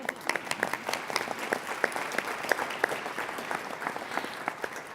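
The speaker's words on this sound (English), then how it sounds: "yeah, we can clap." Audience clapping at a community mental health event, a moderate crowd applauding with distinct individual claps audible in the mix, steady and fairly close.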